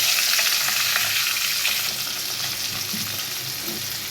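Kakrol (spiny gourd) pieces frying in the same hot oil just used for fish, giving a steady, close, broadband sizzle with faint stirring through the whole stretch, no voices.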